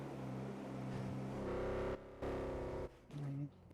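An old-looking car engine in a video game rumbles with a steady harmonic drone that climbs in pitch as it revs, cutting out briefly twice before picking up again, close and loud.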